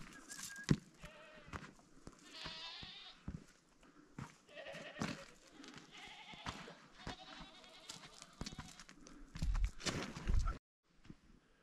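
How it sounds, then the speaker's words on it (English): A herd of goats and sheep bleats on an outdoor walk in the Mongolian Altai, several animals calling repeatedly at varying distances, some near and some farther off, with soft footsteps and occasional knocks in between. "So we're going with this herd of goats and sheep."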